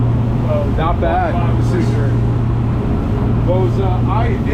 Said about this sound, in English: Those inline 6s have a good growl.